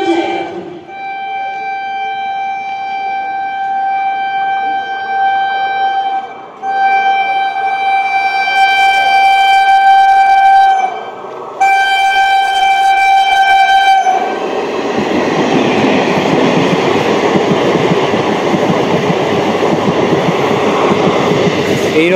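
A Lalgola–Kolkata MEMU passenger train rolls past, first sounding a long multi-tone horn, then the loud rumble and wheel clatter of the carriages going by close up.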